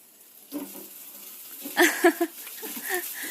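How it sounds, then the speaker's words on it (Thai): Water runs from a tap with a steady splashing hiss, with a few louder gushes midway; faint voices murmur in the background. "น้ำไหลละ เออ ลดน้ำให้เพื่อนเลย"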